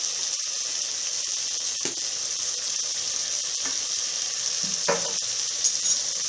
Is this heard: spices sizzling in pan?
yes